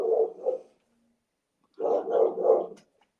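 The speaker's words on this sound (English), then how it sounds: "The dog's got something to say as well." A dog barks in two short bursts, a pair of woofs, a brief pause, then three more, fairly close and alone without any talking.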